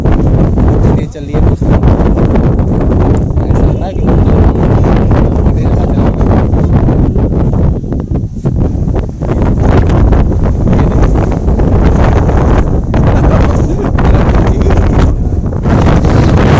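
Strong wind roars through a village during a storm, loud buffeting gusts pounding the microphone almost without pause, with a voice faintly audible beneath the blasts.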